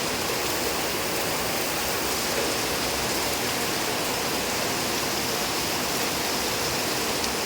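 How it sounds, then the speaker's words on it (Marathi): Heavy monsoon rain pours down steadily and loudly in Naga Supara, a dense unbroken roar of water close by, with no voices. "बघा भरपूर मोठा पाऊस असतो नागा सुपारामध्ये"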